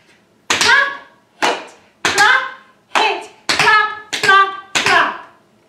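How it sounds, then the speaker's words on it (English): Seven sharp, close body-percussion hits, hand claps alternating with slaps on the sides of the body, in a clap-hit-clap-hit-clap-clap-clap pattern with brief gaps between strikes. "It goes, clap, hit, clap, hit, clap, clap, clap."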